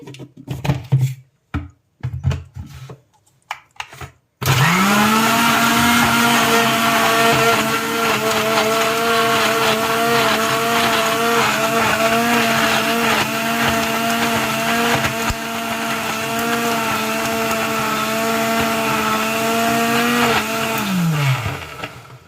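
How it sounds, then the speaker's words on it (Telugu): An electric mixer grinder blends mango lassi with sugar and ice cubes: after a few soft knocks it whirs up to a loud, steady high-pitched motor drone for about sixteen seconds, then winds down. "ఇప్పుడు మనం మిక్సీ అయితే తిప్పుకోవాలి"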